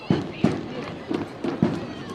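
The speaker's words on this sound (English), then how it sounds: "Got some fireworks going on." Five dull fireworks booms burst at uneven intervals near a minor-league baseball stadium in Long Beach, sounding fairly distant and muffled, with a voice talking between them.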